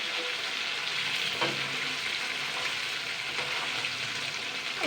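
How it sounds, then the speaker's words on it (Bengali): Fish heads frying in oil in a pan give off a steady, dense sizzle, close and even throughout, with a faint utensil tap or two and no speech. "হালকা লাল লাল করে ভেজে নেব, কিন্তু খুব পুড়িয়ে ফেলবো না কিন্তু মাছের মাথাগুলো"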